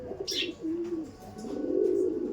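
Giribaj pigeons coo softly nearby, a few low, drawn-out rolling calls with brief pauses, and one short higher chirp near the start.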